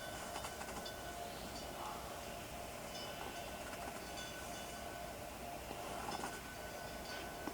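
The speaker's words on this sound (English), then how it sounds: "Sounds like a train track, maybe?" A train rumbles along the track with a steady rolling drone and faint rhythmic clatter, distant and quiet, with no voices.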